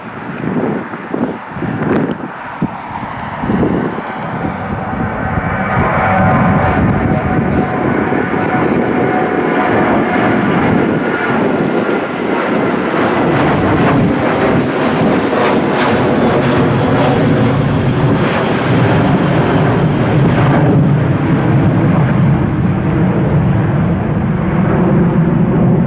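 A jet airliner takes off at Cleveland airport with a loud, sustained engine roar that swells and holds steady, mixed with wind buffeting on the microphone.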